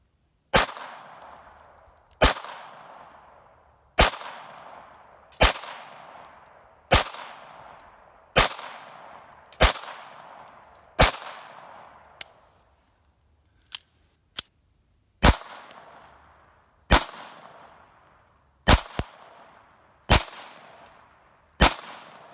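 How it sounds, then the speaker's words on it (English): A .32 ACP pistol empties a full magazine in about fifteen sharp, evenly spaced shots, each with a short ringing decay, and a brief pause partway through the string. "take a full magazine and get through this"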